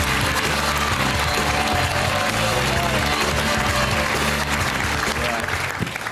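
A studio audience on a British daytime talk show breaks into loud, continuous applause over backing music, filling the whole stretch without letup.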